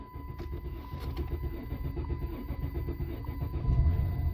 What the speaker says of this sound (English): So it will crank. You might get, I don't know, 5, 6, 7 seconds of cranking.